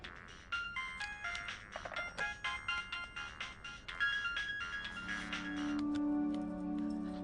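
A phone ringtone plays a quick repeating electronic melody, then shifts to a steadier tone with a low sustained note underneath.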